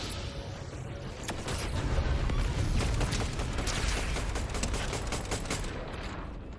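Gunfire in the video game Fortnite rattles in rapid, dense bursts of shots, loud and continuous over a rumbling background for several seconds, with no speech.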